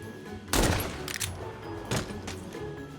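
Lever-action rifle shots in The Walking Dead: Saints & Sinners, three sharp close blasts spaced about a second apart, each with a short ringing tail over a low background hum.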